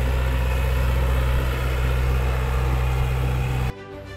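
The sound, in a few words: John Deere 2250 tractor engine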